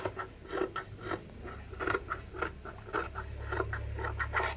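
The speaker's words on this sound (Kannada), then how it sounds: "ಇವಾಗ ಸ್ಲೀವ್ಸ್ ಕಟ್ ಮಾಡ್ತಾ ಇದ್ದೀನಿ" Scissors cut sleeves from cotton blouse fabric in a string of close, crisp snips and scrapes at an uneven pace over a low steady hum.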